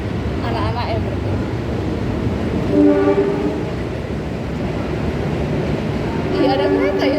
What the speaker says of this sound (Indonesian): Iya ada kereta ya ternyata.